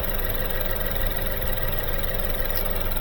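A Lincoln MKZ engine idles steadily with a constant mid-range hum and faint mechanical vibration, heard up close and alone with no talking.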